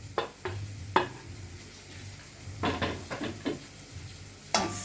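Sweet pepper, tomato and carrot being stirred into pepper steak in a pan, with a few scraping utensil clicks and knocks against the cookware and faint sizzling between them.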